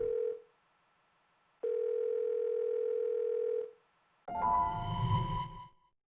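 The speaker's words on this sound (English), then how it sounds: "No one's answering the phone, it's just ringing." An unanswered telephone in a crime-investigation video game, two long steady ring tones separated by silence, followed by a brief rushing swell at the end, clear and close with no voices.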